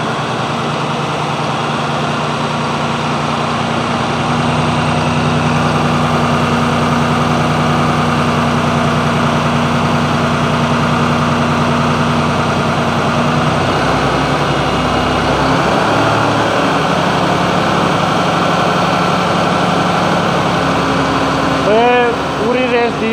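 A New Holland 5620 CRDI tractor engine idles with a steady hum that slowly builds in pitch and intensity as it is revved, with a voice talking briefly near the end.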